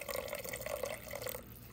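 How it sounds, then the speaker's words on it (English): Cornstarch and water slurry being poured into beef gravy in a pan, a faint liquid trickle and dripping that trails off toward the end, heard alone without talk. "we've got equal parts cornstarch and water here, and I'm going to pour a little bit in there"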